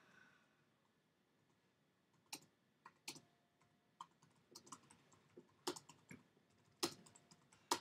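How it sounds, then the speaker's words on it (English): Quiet, irregular keyboard typing with sharp key clicks, gradually picking up pace against near silence. "Stop typing it in."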